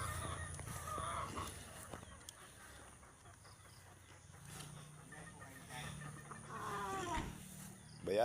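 Free-roaming chickens on a farm in Tanay, Rizal cluck and call in short bursts, fairly close, with a louder squawk near the end and a person talking in between.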